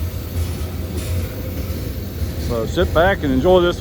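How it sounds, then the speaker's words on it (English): A long, 550-axle mixed freight train rolls past as a steady loud rumble of wheels and cars, with someone talking over it near the end. "All kinds of mixed freight."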